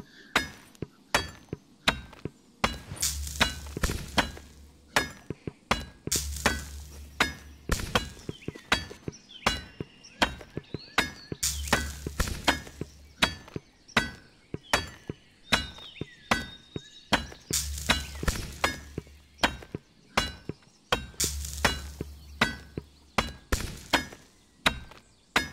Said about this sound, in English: You want to hammer all over the blade because it has to be thin like that all the way.